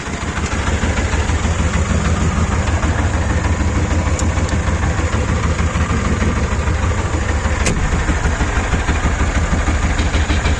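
Shifeng 240 tractor pulling a plough uphill, its diesel engine labouring with a steady, loud, unbroken drone that fills the whole stretch.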